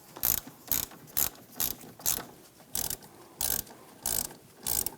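Hand ratchet tightening the rear brake caliper pins on a 2001-2006 BMW 325Xi, about ten crisp clicking bursts at a steady, close rhythm with short pauses between strokes.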